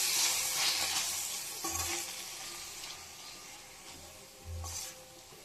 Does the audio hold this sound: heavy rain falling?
no